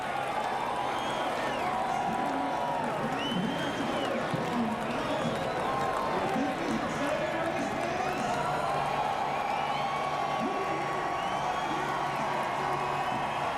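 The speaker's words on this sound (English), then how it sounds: "Listen to the roar of the crowd." A large NASCAR race crowd roars and cheers continuously, with whoops rising over the din and a commentator talking over it.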